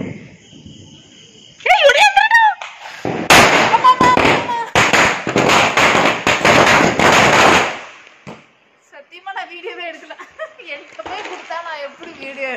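Diwali firecrackers burst in a rapid, loud crackling string, with whistling rockets before and voices talking and shouting after.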